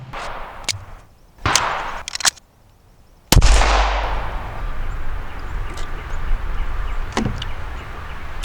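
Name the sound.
pistol shots fired at a gun range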